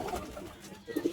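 Pigeons being handled for sale give soft, low cooing, a brief murmuring burst that swells near the end, close and quiet.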